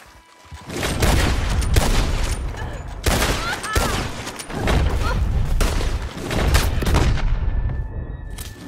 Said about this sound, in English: Why did you want to reload your ammunition in the middle of a gunfight?